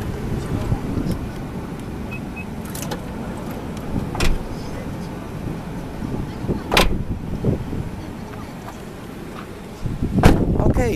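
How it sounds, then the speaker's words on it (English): Several sharp thumps from the door of a 2004 Nissan Elgrand Type-X 3,500cc 4WD being shut, spaced apart over low vehicle rumble, the last one loudest and closest. "So here we go, we'll close the door."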